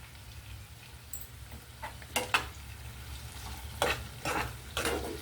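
Vegetables fry in a pan for a capsicum tamarind curry, a low steady sizzle broken by several sharp scraping stir strokes of a utensil against the pan, close and clear.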